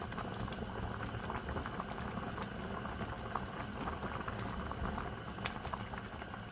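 Pot of rice simmering in boiling water for Korean red bean porridge, a steady close bubbling and popping that runs evenly throughout with no voices.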